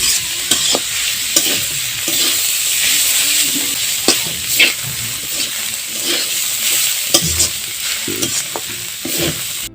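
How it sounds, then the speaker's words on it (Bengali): Radish greens frying in half a tablespoon of soybean oil, stirred in the pan: loud, continuous sizzling and hissing broken by repeated scraping and tossing strokes at an irregular rhythm. "এখন আমি শাকগুলো কিছুক্ষণ ভালোভাবে নেড়ে নিব।"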